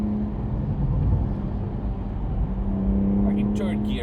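A BMW M140i with a Remus exhaust, its engine note droning steadily with a shift in tone as it downshifts through third and second gear, heard from inside under someone talking.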